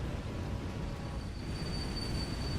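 Trains roll along rails in the railway management game Railway Empire, a steady low rumble of wheels with a faint high squeal appearing partway through, continuous and even.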